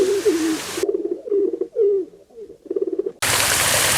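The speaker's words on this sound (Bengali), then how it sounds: "এখানে প্রচুর পায়রা রাখা আছে এই খাঁচাটায়।" Pigeons kept in a cage at a resort coo in soft, rolling repeated calls, several phrases close by, framed by bursts of broadband noise at the start and end.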